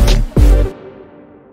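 A short burst of music cuts off, leaving a reverberant tail that fades out over about a second.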